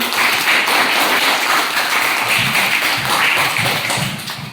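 A classroom of students applauds, a steady, dense patter of hand claps held at an even level before fading slightly at the end.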